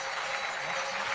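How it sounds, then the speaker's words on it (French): Audience applause at the Chronos d'or 2022 sports awards ceremony, a steady dense wash of clapping that holds at even loudness through the whole stretch with no voices over it. "On peut les applaudir, mesdames et messieurs."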